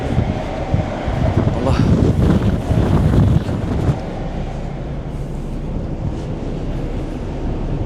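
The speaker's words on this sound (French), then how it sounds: "j'espère que vous allez m'entendre parce que là il y a beaucoup de vent" Strong, steady wind roars and buffets the microphone on an open ferry deck crossing from Tangier to Sète, with a low rumble underneath and a brief spoken word early on.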